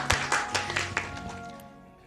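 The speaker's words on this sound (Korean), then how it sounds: "이건 제가 박수를 치겠습니다" A single person claps in a television studio, about six quick, evenly spaced claps close to the microphone that trail off, with a speaking voice underneath.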